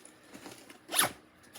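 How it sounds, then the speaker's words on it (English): Zipper on a VIKTOS Upscale 2 EDC sling bag being pulled open in one quick, close rasp after a few faint handling sounds. "open the zipper up."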